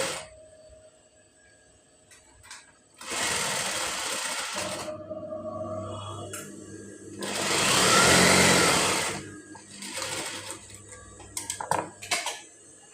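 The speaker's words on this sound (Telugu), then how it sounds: "కింద సైడు ఇక్కడ ఫోల్డ్ చేసి స్టిచ్చింగ్ చేయాలి." A sewing machine stitches a folded sleeve hem in two bursts of rapid, whirring needle action, each a few seconds long, close up, with quiet pauses and faint handling noise between.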